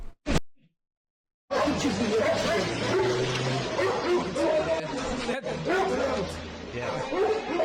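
Stray dogs bark and yip repeatedly from a replayed recording, several overlapping barks with whimpers amid crowd chatter, fairly loud after a brief opening burst and a short silence.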